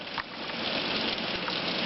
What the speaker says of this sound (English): It's raining hard, isn't it?